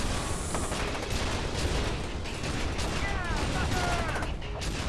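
Turret gunfire in the video game F.E.A.R. 2, a dense and continuous stream of rapid shots mixed with mechanical clatter, loud and steady throughout, with no pauses.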